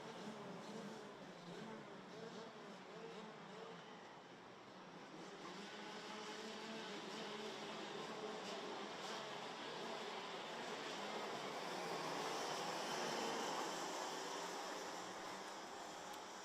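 Racing kart engines rev together on the grid at a karting series race start, a dense, steady droning roar that swells slightly in loudness, heard from a moderate distance with no voices.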